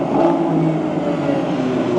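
A Lamborghini hybrid's engine roars loudly and steadily at close range with only light throttle, a constant deep growl that swells slightly at the end.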